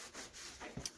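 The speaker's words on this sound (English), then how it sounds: "I have my tiny wife here sanding the insides of the doors" Soft, quiet rubbing strokes of sandpaper on the inside of a car door during Toyota MR2 restoration, several short scrapes in a row, close and faint.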